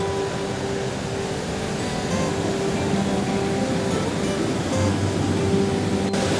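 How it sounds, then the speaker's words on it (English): Water crashing and splashing at an Icelandic waterfall, a constant dense roar of spray heard up close with no talk. "the water splashes up so high"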